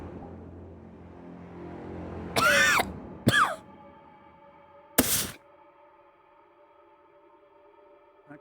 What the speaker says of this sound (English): That cough sounds rough.